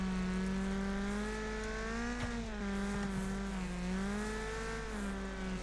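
Race cars drive in the video game Wreckfest, with a steady, droning engine note that wavers in pitch throughout and no talking.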